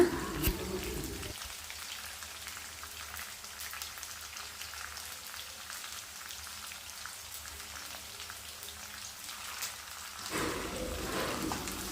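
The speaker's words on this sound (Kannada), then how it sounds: "ಈರುಳ್ಳಿ ಎಲ್ಲ ಎಣ್ಣೆ ಬಿಡೋವರೆಗೂ ಚೆನ್ನಾಗಿ ಫ್ರೈ ಮಾಡಿಕೊಡಿ" Onions frying in oil with curry leaves and green chillies for wedding-style shavige bhath, a faint, even crackling sizzle that holds steady for several seconds between slightly louder handling noises.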